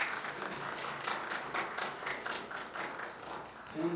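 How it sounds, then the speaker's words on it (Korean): A modest group applauds at the Jogye Order's 2021 New Year press conference as monks enter, a steady patter of hand claps at moderate volume with no talking over it. "큰 박수로 맞아주시기 바랍니다."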